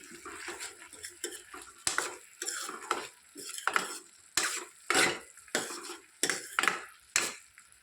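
Drumstick curry is stirred in a pot in a steady rhythm of scraping, clinking utensil strokes about every half second, close and fairly loud, with a faint bubbling simmer between.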